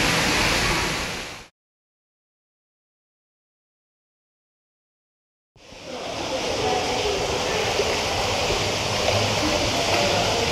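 Flowing water at a hot spring inside a cave, a steady rushing stream sound that cuts out for several seconds of silence and then returns strong and continuous.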